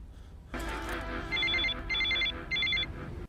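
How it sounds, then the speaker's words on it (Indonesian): A telephone rings in a dramatic film scene over a loud sustained musical background, its electronic trilling ring sounding in three distinct repeated bursts, close and clear. "Pikram mendapat telepon dari Chada mengenai Rehan yang menyerahkan diri"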